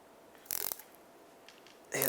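Two short bursts of metallic ratcheting clicks, close and fairly quiet, separated by a near-silent pause, as a 15mm wrench and locking pliers work the rear shock absorber nut on a 2007-2010 Chrysler Sebring.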